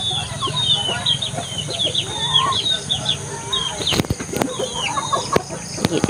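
Several chickens cluck and chatter continuously at close range, with occasional wing flaps and clattering knocks.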